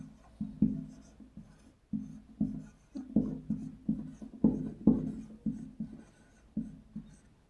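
Hand writing on a board during a Hindi-language Class 11 math lesson on sets, with a series of close scratchy strokes in short bursts and brief pauses between them, no speech.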